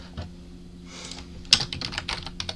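Code being typed on a computer keyboard, starting with a few soft taps and then turning into a quick, irregular run of crisp keystrokes up close.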